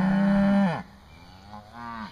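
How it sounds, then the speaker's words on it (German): Cows moo nearby outdoors, one loud, long low call that drops off, followed by a fainter second moo against quiet background noise. "Mittlerweile sind die Kühe gekommen."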